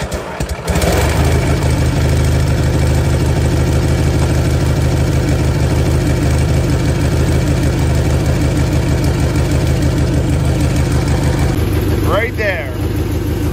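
Cub Cadet 982 lawn tractor engine with dual mufflers running loudly and steadily at idle, a close continuous rumble that dips near the end, with a voice talking over it.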